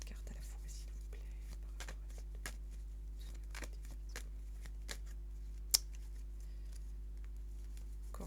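Tarot cards riffled and shuffled in soft, repeated bursts at close range, with faint papery ticks and a sharper snap near the end over a steady low hum, while a voice murmurs quietly underneath.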